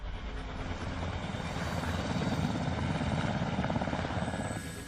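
A military helicopter on its landing approach gives off a loud, steady roar of engines and thudding rotor blades. The sound is close and constant throughout, and no one speaks.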